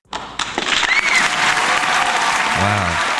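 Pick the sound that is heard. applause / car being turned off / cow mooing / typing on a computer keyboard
applause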